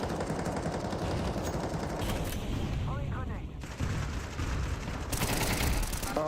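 AK rifle bursts crack in a Counter-Strike match on FACEIT, several rapid automatic volleys close and loud, broken by short pauses, with game noise around them.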